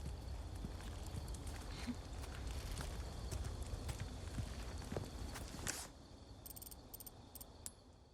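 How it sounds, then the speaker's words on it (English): Crickets chirp in a quiet outdoor night scene from the Resident Evil 4 video game, a faint steady insect trill with soft footsteps, fading partway through and leaving sparse high chirps. "Just enjoy the nice breather, the sound of the crickets."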